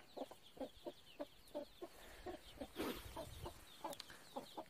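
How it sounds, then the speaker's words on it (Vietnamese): Chickens cluck softly on a mountain farm, giving short repeated clucks and peeps in a loose, quick rhythm, fairly faint and close, with no other sounds. "gà con dưới này cũng bắt đầu lon ton chạy về"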